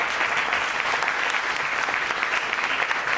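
An audience at a network marketing training session in Meerut breaks into loud, sustained clapping, with many hands mixed into a dense, even wash that continues for the whole short stretch.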